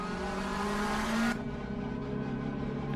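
McLaren GT race cars pass on track at Spa, a loud engine note sweeping by and cutting off sharply, followed by a quieter engine drone that begins to rise again.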